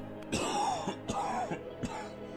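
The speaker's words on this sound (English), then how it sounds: "The beggar trembles as another rough, wheezing, coughing fit racks his body." A beggar character in a video game has a rough, wheezing coughing fit, three harsh throaty coughs spaced about half a second apart, close and alone.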